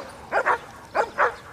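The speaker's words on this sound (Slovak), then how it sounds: "Takže na úvod nás pozdravia naši psíci." Rescue dogs at a training demonstration at a school in Ivanka pri Dunaji give two quick double barks, moderately near and fairly faint, with a quiet gap between the pairs.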